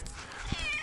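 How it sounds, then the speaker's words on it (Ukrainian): A cat meows near a rural village home, one drawn-out, wavering call rising and falling over faint background noise, close and fairly quiet. "Кажи мяу"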